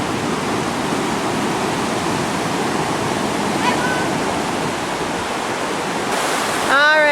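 Flooded creek rushing past close by, a loud unbroken roar of churning water that holds steady throughout, with a brief voice near the end.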